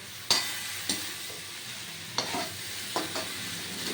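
Vegetable patty and chop filling, a dryish curry of vegetables with crushed nuts and spices, cooking in a pan, with a faint steady sizzle broken by a few sharp scraping stirs spaced across the moment.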